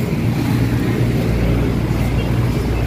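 Toyota Altis 2017 with manual transmission idles under an open hood, its engine giving a steady low hum and rumble with no revving, close by and continuous.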